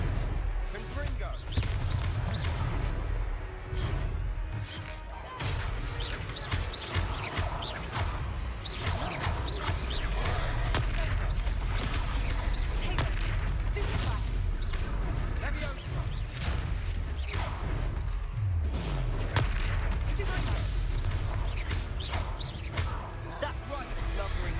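Repeated blasting-curse explosions in a Harry Potter video game, dense bursts and thuds over continuous battle noise and music, with characters talking throughout.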